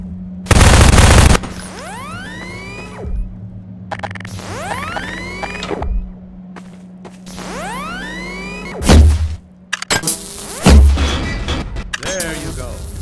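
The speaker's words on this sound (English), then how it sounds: "Now, take out the firearm of your choice and shoot the device." Half-Life 2 gunfire sets off a device stuck to a Strider's body: heavy, loud blasts and sharp bursts are separated by long, swooping, rising and falling synthetic whines.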